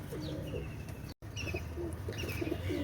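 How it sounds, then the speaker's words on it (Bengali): Golden pigeons, a Pakistani breed, coo in low, repeated throaty calls close by, with soft rustling in between and a brief silent gap partway through. "এটা হচ্ছে গোল্ডেন কবুতর।"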